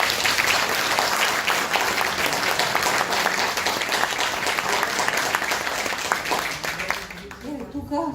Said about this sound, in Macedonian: Јас би сакала еден голем аплауз за гостите од Белград.